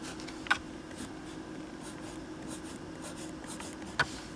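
A pencil sketches an outline on paper, a soft continuous scratchy rasp of graphite with two sharper taps of the pencil against the page, close and quiet.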